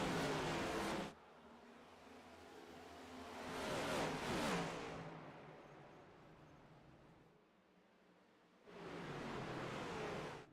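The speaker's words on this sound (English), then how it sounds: "We are going to see some beautiful sights and some awesome sounds here as these full throttle race cars are about to go green" Race cars at full throttle in a sim racing game at Indianapolis Motor Speedway, engines roaring past in loud bursts at the start and end, with a fainter swelling pass between them.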